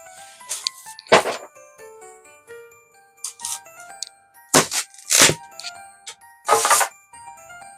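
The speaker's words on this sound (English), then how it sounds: "I'm going to cut it out and snap off the edges" Cut-out gingerbread house pieces have their edges snapped off, several sharp dry cracks in irregular bursts, close and crisp, with faint clinks between them.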